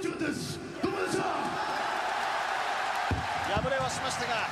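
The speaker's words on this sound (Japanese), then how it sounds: "敗れたケンスケにも大歓声が。" A huge arena crowd of about 62,000 at the Tokyo Dome cheers after a pro wrestling match, a broad sustained roar under an excited commentator's voice.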